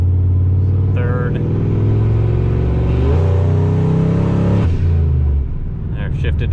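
A big single-turbo Ford F150 pickup accelerates hard on the street, its deep engine roar rising steadily in pitch before easing at a shift, loud and close from inside the cab, with someone talking briefly over it.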